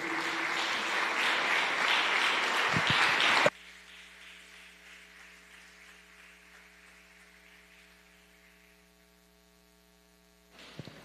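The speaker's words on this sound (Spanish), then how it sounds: "Dele fuertes palmas al Señor." A church congregation applauds loudly for a few seconds, the clapping cutting off abruptly and leaving a low electrical hum and faint room noise, with a brief bump of sound near the end.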